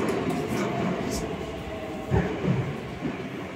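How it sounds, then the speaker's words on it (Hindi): A metro train in Russia pulls into the station and runs on, giving a steady low rumble with a few soft clunks from the wheels, heard at moderate distance with no clear talk over it. "ये देखिए अब आ गई है मेट्रो"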